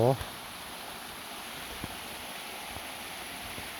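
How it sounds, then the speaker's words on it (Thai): Water rushing at Sam Lan waterfall in Saraburi, Thailand, running low during the rainy season; a steady, even hiss of flowing water fills the whole clip, with a brief voice at the very start. "คือน้ำตกสามล้าน"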